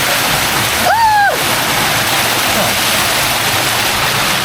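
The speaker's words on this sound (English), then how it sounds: "Oh, look at this waterfall." Waterfall at the Maui Pools, a steady broadband rush of falling water filling the whole clip, with a brief whistled or sung tone rising and falling near the start.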